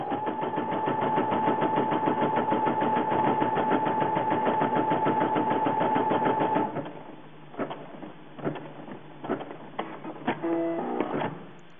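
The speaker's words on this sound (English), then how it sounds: "I go ahead and begin my machine embroidery" A Brother home sewing and embroidery machine stitches white thread in a loud, steady mechanical whir with rapid needle rhythm for several seconds, then stops, leaving scattered clicks and small mechanical noises.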